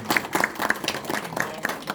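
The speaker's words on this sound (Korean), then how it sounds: "우리 김영조 의원님께 큰 박수 좀 부탁드리겠습니다." Applause fills the room at a party members' meeting with a lawmaker, a steady patter of many hands clapping, with faint voices mixed in.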